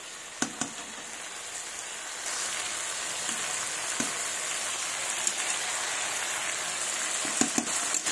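Spices fry in a pan with wilted spinach for a fish curry, giving a steady, bright, rain-like sizzle. A few soft knocks from stirring break through, and the sizzle grows a little louder partway through.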